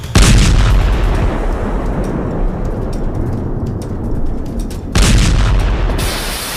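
Loud, continuous rumbling blasts with dense crackling from missile explosions, a fresh heavy boom hitting near the end; booming explosions fill the whole stretch.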